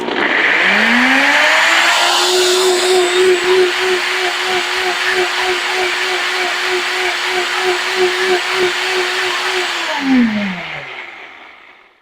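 A blender motor spins up with a rising whine, runs loudly and steadily for about ten seconds, then winds down.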